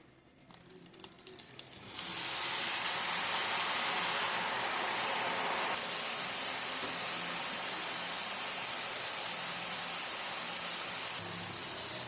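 Omapodi sev dough is pressed into moderately hot oil and bursts into a loud, dense, steady frying hiss that holds close and even for several seconds after a brief quieter start.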